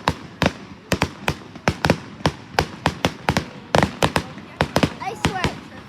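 A fireworks show fills the air with a rapid series of sharp, loud bursts, roughly two dozen cracks and pops arriving in an irregular, closely spaced barrage.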